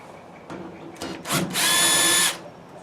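A cordless drill with a Phillips bit backs screws out of the rear panel of an electric dryer, giving a few short whirring bursts and then one longer high whine, close and moderately loud.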